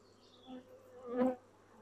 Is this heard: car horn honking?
no